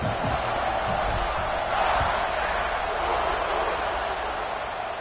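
Stadium crowd noise before a college football kickoff, a steady loud roar of fans cheering and shouting that swells briefly midway, with scattered thumps beneath.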